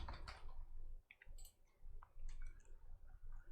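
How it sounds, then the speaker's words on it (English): Typing on a computer keyboard, quick bursts of light clicking keystrokes with short pauses, close and quiet. "I'll just have to do a bit of repetitive typing in here"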